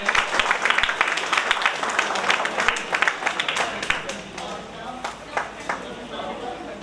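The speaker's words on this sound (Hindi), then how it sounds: "आप लोग प्लीज तालियां बजाते रहें।" Audience clapping at a 2022 school felicitation award ceremony, uneven and somewhat sparse, with individual claps standing out as the applause thins, mixed with a voice speaking over it.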